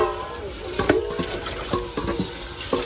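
Rinse water is poured out of a container of washed fish while steamed fish is prepared in a kitchen, a steady close trickle and splash with a few clunks of the container.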